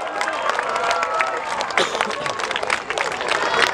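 An audience at a youth football league award ceremony applauds a top scorer, with dense, steady clapping and mingled crowd chatter throughout.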